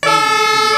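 A red toy ladder fire truck sounds its siren, a loud, steady electronic wail of stacked tones held close to the microphone for under a second, with no talk over it.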